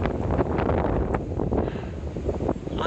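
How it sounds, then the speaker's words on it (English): Wind buffets a microphone outdoors in a garden, a continuous low rumbling roar with gusty swells. "I'm sick of this wind, absolutely sick of it"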